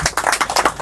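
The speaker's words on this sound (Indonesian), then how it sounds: "mari kita kasih tepuk tangan yang meriah dulu" Audience applause at a talk show event, a burst of hand clapping with uneven rhythmic peaks, moderately loud and close, with no voices over it.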